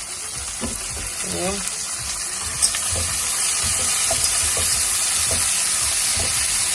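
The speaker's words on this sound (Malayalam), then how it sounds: "സവോളയൊന്ന് വാടി കഴിഞ്ഞപ്പോൾ നമുക്ക് അതിലേക്ക് കോൺ ചേർത്ത് കൊടുക്കാം." Onion and corn sauté in a pan for pasta, giving a steady bright sizzle with occasional scrapes of stirring, and a voice briefly talks over it early on.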